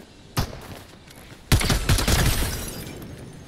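Gunfire in Fortnite Zero Build: a single sharp shot, then a loud burst of rapid shots that rings out and slowly fades, with no talk over it.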